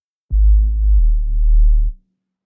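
A synth patch built in Ableton Live for a UK garage track plays a single sustained low tone of about a second and a half that steps down in pitch partway through, loud and clean with nothing else around it.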